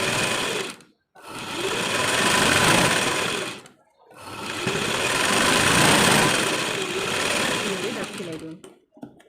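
Sewing machine running in steady, fast stitching stretches on a prince-cut blouse, a close whirring mechanical hum broken by two brief pauses.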